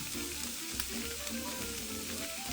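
Chopped vegetables sizzle steadily in an oiled pan while scrambled tofu is being made, a continuous close crackle with light stirring scrapes and no voices.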